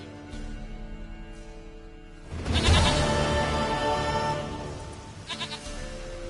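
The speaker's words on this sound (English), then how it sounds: "Goat of mine, dearest, sweetest goat." A goat in The Witcher 3 gives a loud, wavering bleat in the middle of soft in-game ambient sound, followed by a shorter, fainter bleat near the end.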